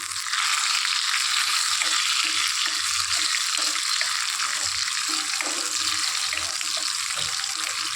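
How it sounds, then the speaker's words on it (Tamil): Cashews and raisins frying in hot ghee give a loud, steady sizzle that crackles and hisses for the whole stretch, close up and with no voices. "நல்லா வெந்துருச்சு முந்திரி திராட்சை போட்டுக்கலாங்க"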